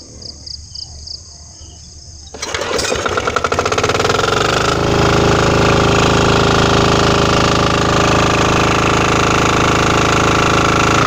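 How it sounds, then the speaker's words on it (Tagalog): An engine for a farm water pump and rotavator at a rice seedbed starts after quiet night insects, catches with a rough knock and settles into a loud, steady, rattling run. "paandarin na natin ang makina"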